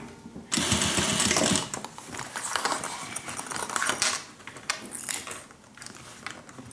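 A sewing machine stitches a long edge seam on a sling bag, starting abruptly in a fast run, then continuing in uneven bursts with some mechanical clatter, close by.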